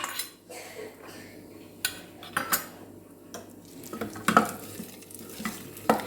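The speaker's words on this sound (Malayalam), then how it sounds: "ഇനി ഇത് നല്ലപോലെ ഇളക്കി കൊടുക്കാം." Pumpkin and cowpea koottu curry, sadya style, stirred in a pan with a spoon: scraping strokes and clinks of metal against the pan come in irregular bursts, fairly close, over a soft background, with no talking.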